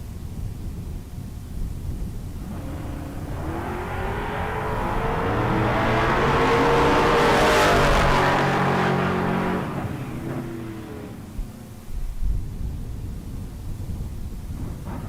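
A pair of bracket drag race cars, an orange Chevrolet and a black Camaro, roar off the line and thunder past, the engine noise swelling to a loud peak and fading down the strip.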